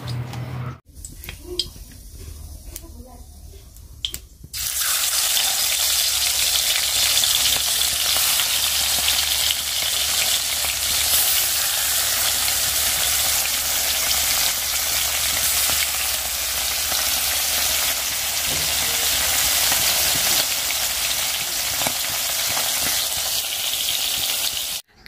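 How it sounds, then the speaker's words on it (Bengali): Fish frying in a pan, a steady, loud crackling sizzle held close throughout with faint ticking pops, after a short quieter stretch at the start. "তো রান্না হচ্ছে মাছটা ভেজে রেখে দিলাম"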